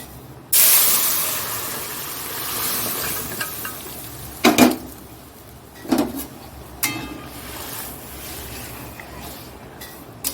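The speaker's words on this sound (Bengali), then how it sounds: "ফোড়ন দেব দেখো হয়ে গেছে এবার ডালটা দিয়ে দেবো" Lentils pour into hot tempering in a pan and burst into a loud, steady hiss that fades slowly, with a few sharp clatters of a utensil against the pan later on.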